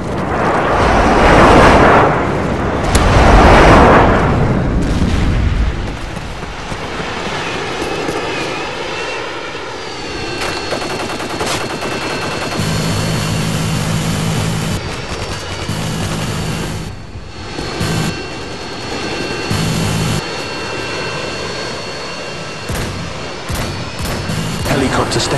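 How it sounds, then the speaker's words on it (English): Loud booming airstrike blasts rumble in the opening seconds of Call of Duty: Modern Warfare 2, then a steady Harrier jet engine roar carries on with scattered thuds and radio-like voices talking over it. "Harriers inbound."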